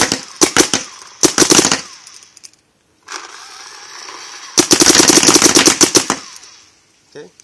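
Dangerous Power G5 paintball gun with a VMAX loader firing rapidly outdoors: several loud bursts of sharp, rapid pops separated by short pauses, with a quieter mechanical whir between volleys and no speech.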